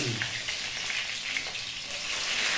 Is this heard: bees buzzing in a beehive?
no